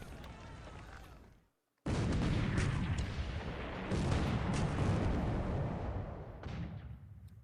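In the War in the Pacific game, naval guns fire at a destroyer: loud booming volleys roll on after a brief silence, heavy and continuous blasts with a rumbling tail, under a dense battle roar.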